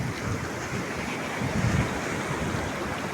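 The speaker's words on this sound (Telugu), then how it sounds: "సముద్రం వచ్చేసి చూడు, తడిపేసింది" Sea waves wash steadily onto a beach with a broad, continuous roar that swells briefly in the middle, close by and fairly loud, with wind rushing across the microphone.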